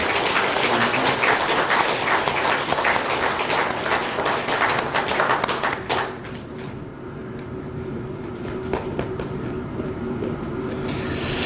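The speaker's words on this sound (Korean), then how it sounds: "박수 한번 하시겠습니다" Congregation applause at a Korean Presbyterian church service for a pastor's installation: loud, dense clapping that fades after about six seconds to scattered claps and room noise.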